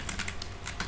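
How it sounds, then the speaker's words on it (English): Keys on a computer keyboard are pressed in quick succession during a Linux terminal tutorial, giving a short burst of crisp, close clicks with no talking. "press escape key in your keyboard, then press shift Z"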